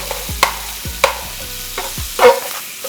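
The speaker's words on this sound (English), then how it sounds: "I'm just gonna cut it up while it's in the pan" Knife or spatula chopping smoked barbecue brisket for a Philly cheesesteak in a hot pan, a few sharp scraping strikes spaced about half a second apart, close and clear over a low background hum.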